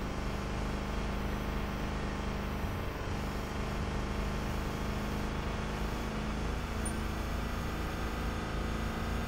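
Car engine in the racing game Revhead, a steady loud drone holding one pitch without a clear gear change, alone with no talk.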